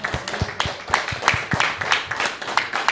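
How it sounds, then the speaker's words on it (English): Congregation clapping in a steady, rhythmic beat during worship, the hand claps crisp and close with no voices over them. "Clap it up for the Most High."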